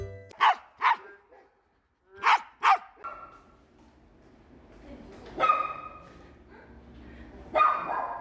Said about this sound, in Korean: 정말 헛짖음은 이런 거예요. 한번 보세요.